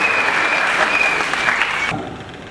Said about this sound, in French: Je pense que les parents pouvaient applaudir très fort pour ces enfants